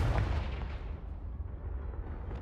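Confringo fire spell blast from the Hogwarts Legacy video game: a loud, booming explosive burst at the start that rolls off into a dense, rumbling low-end tail lasting a couple of seconds.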